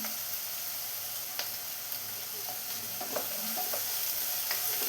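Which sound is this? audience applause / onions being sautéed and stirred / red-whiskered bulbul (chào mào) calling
onions being sautéed and stirred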